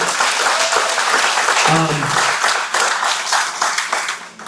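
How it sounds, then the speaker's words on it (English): An audience at a hospital unveiling event breaks into sustained, loud applause that fills the whole stretch, with a brief voice rising partway through before the clapping tapers slightly at the end. "Big round of applause for Dave."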